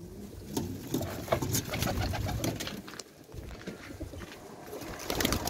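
Pigeons coo softly amid background rustling and faint ambient noise, with a few distant voices.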